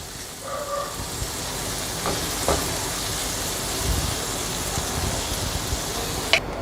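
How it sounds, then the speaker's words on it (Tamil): Paneer frying in a little oil in a pan over a medium flame gives a steady, soft sizzle throughout, with a few light clicks and taps from the pan. "இதை கொஞ்சம் எண்ணெய் லேசாக விட்டு இப்போ நம்ம வந்து ஃப்ரை பண்ணணும்"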